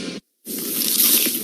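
A close, wet, squishy bite into a crunchy, cheesy pizza slice follows a brief moment of silence and then carries on as a soft, sustained chewing texture.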